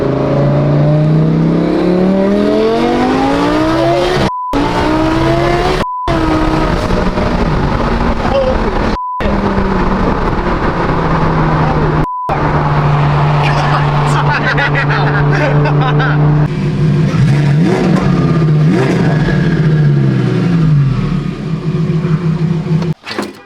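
A twin-turbo V10 Toyota Supra accelerates hard from inside the cabin, with a loud engine roar whose pitch climbs and drops through several gear changes. Brief cuts break it up, and occupants talk under the noise.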